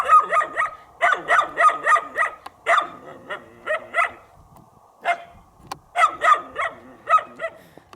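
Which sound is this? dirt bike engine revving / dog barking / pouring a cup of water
dog barking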